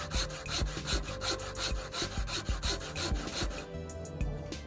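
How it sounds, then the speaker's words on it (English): A hand saw cuts through a golf ball clamped in a vise, working in a steady rhythmic back-and-forth stroke with a dense, scratchy rasp on each pass, continuous and close up for the whole stretch. "Nice back and forth stroke."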